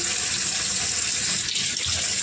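Green chillies are rinsed under a running kitchen tap, a steady close splash and gush of water into the sink lasting a couple of seconds.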